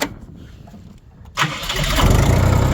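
A Kentavr 244 tractor engine cranks and catches after a quiet moment, then settles into a loud, close, rumbling idle that builds steadily.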